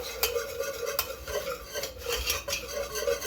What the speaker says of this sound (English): Go ahead and stir that in.